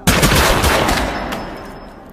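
A firing squad fires a rifle volley at an execution: a burst of loud, sharp shots in quick succession, each cracking close and echoing out, fading into a decaying rumble.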